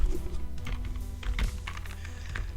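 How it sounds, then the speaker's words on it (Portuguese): Typing on a computer keyboard while writing HTML code, with rapid irregular clicks and clacks of keys heard up close and alone. "Deixa eu usar meu outro teclado."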